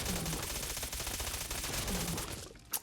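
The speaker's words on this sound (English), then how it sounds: "Let's check out the machine pistol." Rapid machine pistol fire from a makeshift weapon in the Fallout 4 video game, a steady stream of shots in one continuous burst that fades out toward the end.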